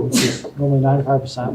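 A single sharp sneeze bursts out during a university lecture on linear regression, and the lecturer's voice continues right after it.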